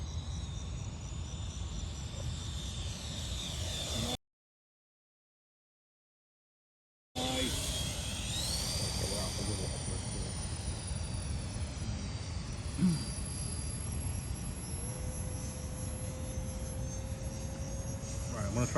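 A Freewing F9F-8 Cougar 80mm EDF model jet makes a low, slow pass with half flap, its ducted fan whining steadily at a distance, broken by a brief dropout, with outdoor insect chirping in the background.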